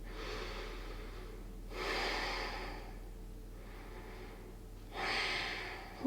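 Slow, deep breaths during a Pilates stretch come and go in two long, soft inhale-exhale swells over a low steady background hum, close and gentle.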